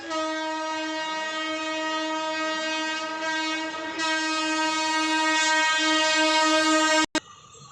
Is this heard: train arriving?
yes